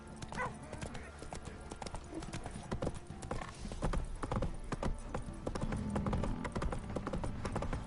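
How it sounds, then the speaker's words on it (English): Horse hooves clip-clop on the ground in The Witcher 3 video game, a steady, fairly near rhythm of hoofbeats heard quietly under a voice, with a faint whinny. "Whoa there, Roach."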